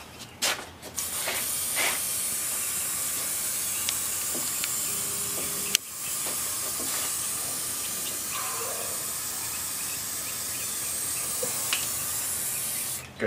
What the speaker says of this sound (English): Getting a little bit hard to spray. Can's just about getting low